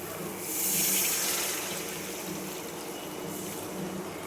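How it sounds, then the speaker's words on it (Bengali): Water poured in a small splash into pomfret fish curry masala in a pan, giving a soft, brief rush that swells and fades into a low ongoing hiss, close and fairly quiet. "এবার আমি জল দিয়ে দেবো অল্প"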